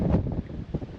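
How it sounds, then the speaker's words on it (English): Wind gusting across an exposed mountain ridge, a soft, close rumbling buffet on the microphone that swells and eases over a second, heard alone without talk. "Getting a bit windier"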